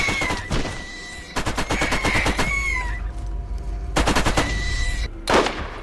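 Rapid automatic gunfire rattles at turrets in Borderlands, with loud bursts of shots separated by short pauses and ringing tonal effects between volleys.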